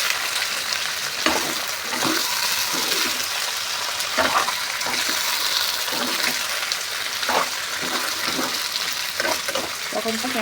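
Pork stir-fries with cumin paste in a hot pan, giving a steady loud sizzle with scraping and stirring strokes throughout.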